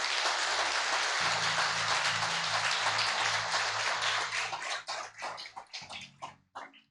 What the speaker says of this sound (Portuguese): Eu gostaria que a igreja desse uma grande salva de palmas.